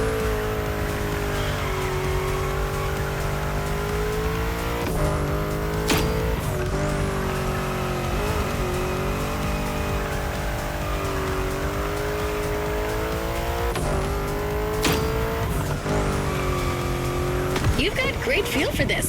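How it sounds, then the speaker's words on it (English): A car drifts in the racing video game The Crew Motorfest, its engine droning steadily with long tire squeals and revving swells. An instructor's voice talks over the continuous game audio. "That's a proper drift."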